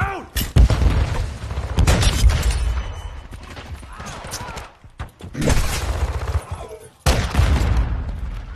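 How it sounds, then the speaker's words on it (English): A stun grenade goes off in a shooter video game amid a loud, busy firefight, with bursts of gunfire and booms crowding the scene and a voice talking in between. "Stun grenade out."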